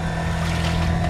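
Inboard motor of a sailboat running at anchor on a round-the-world sailing trip, a steady loud drone with water and wind noise around it, close and continuous.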